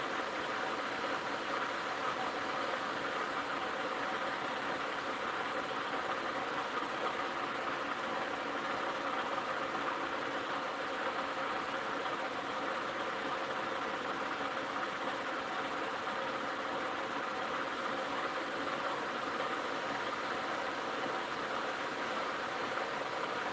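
Engine idling steadily at about 1,030 RPM in a research workshop setting, a constant broadband hum with low rumble that stays even and unbroken throughout, with no talking.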